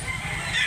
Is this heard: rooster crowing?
yes